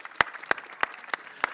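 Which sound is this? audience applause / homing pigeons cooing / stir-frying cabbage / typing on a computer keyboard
audience applause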